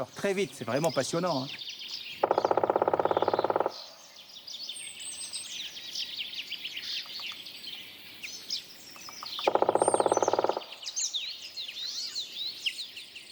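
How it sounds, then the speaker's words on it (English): A black woodpecker calls repeatedly in a forest, clear, ringing notes scattered across the clip, interrupted by two short stretches of a narrating voice. "For the last 15 days, the black woodpecker has been singing constantly."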